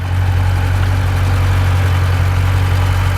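A Jeep Grand Cherokee SRT engine idles with a steady, deep rumble close by, a smooth low drone that holds without change.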